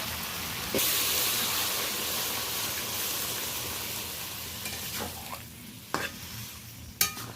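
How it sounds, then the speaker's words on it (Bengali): Watermelon rind vegetable curry is stir-fried in a pan, a close, continuous sizzle with spatula scrapes and a few sharp knocks near the end, and no speech. "কষাতে কষাতে সবজিগুলো প্রায় সিদ্ধ হয়ে গেছে"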